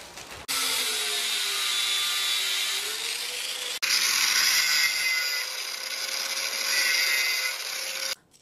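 A power tool whines through metal rods cut to length for a clothes drying rack installation, two close, loud cutting passes with a steady grinding pitch, separated by a brief break.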